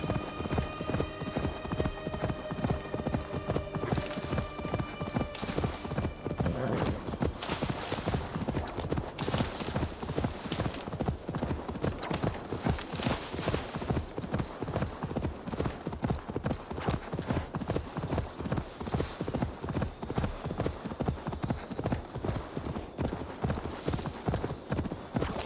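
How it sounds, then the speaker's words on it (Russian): Horse hooves clip-clop at a steady galloping rhythm while riding in the video game Assassin's Creed Valhalla, continuous and close throughout. "Как быстро мы на лошади до туда доедем."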